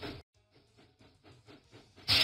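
Cartoon steam engine in a Thomas and Friends video game chuffing in a steady rhythm of about seven soft puffs, moderately quiet, followed by a sudden loud burst of hissing steam at the end.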